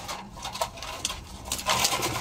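A pet bird named Opal, kept with its mate, gives soft, close, intermittent cooing and rustling sounds in short bursts, with no one talking over it.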